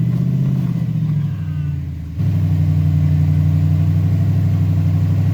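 A Jeep engine with a jumpy throttle on an off-road trail, running loud and close with a steady drone that dips briefly and then surges back, holding an even roar.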